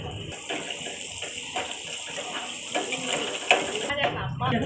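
Chopped onion, ginger and garlic sizzle and hiss steadily in a hot pan while a cook for a daal mash gosht talks throughout, with occasional clinks of a utensil against the pan.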